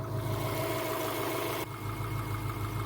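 A Subaru car engine runs after a restart at steady idle, a continuous low mechanical drone with a slight shift partway through, fairly quiet and without voices.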